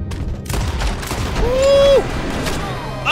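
Video game gunfire crackles in short bursts, mostly early on, while a voice gives a loud, rising exclamation and background noise fills the rest.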